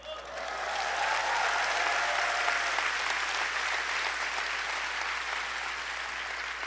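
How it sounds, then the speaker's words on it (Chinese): A church congregation at a revival meeting breaks into sustained applause, a dense, even wash of clapping that rises quickly and holds steady before easing slightly, heard at moderate volume. "现在你会鼓掌"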